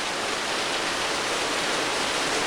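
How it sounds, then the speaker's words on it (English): Heavy downpour soaking a backyard pond excavation in Villa Rica, Georgia, a dense, steady hiss of rainfall that stays loud and unbroken throughout, with no voices over it. "We needed some rain, and by golly, we're getting it."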